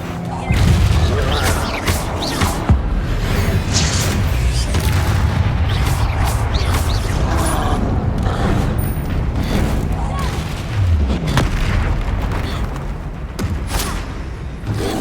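Repeated Confringo fire-spell blasts in Hogwarts Legacy, a dense run of booms, thuds and crackling impacts that carries on for about fifteen seconds, loud and close, with game clatter mixed in.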